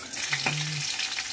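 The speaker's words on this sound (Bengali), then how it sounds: "5 ফোড়ন, শুকনো লঙ্কা ফোড়ন, কাঁচা লঙ্কা আর হিং দিয়ে ছেড়ে দেবো।" Whole spices, dried red chili, green chili and asafoetida hitting hot oil for a Bengali radish-pumpkin curry, a brief steady sizzle with a short low hum from the stove beneath, no talking.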